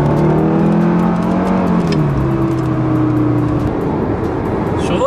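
An Audi RS3 with a 400 hp engine accelerates on the motorway with a loud, steady interior drone. Its engine note rises through the gears over about five seconds.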